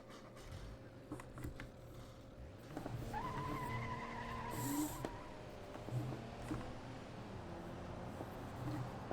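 An inline-six car engine in a racing video game hums and revs, rising in pitch midway with tire skids and squeals, moderately loud and continuous with no talk.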